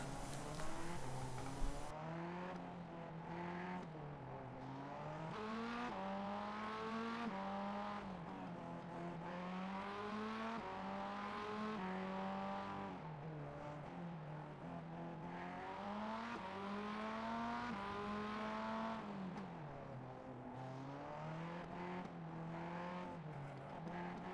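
Race car engines from the iRacing sim drone steadily throughout, their pitch rising and falling with shifts as cars accelerate through corners, loud and continuous with no talk over them.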